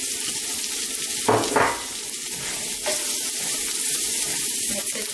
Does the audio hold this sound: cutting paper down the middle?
no